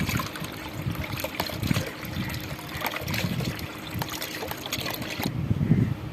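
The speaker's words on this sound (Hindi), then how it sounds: "और इसमें हम थोड़ा पानी शामिल करेंगे।" A steady trickling pour of water into a pot, close by, with a slight pause and a final gush near the end.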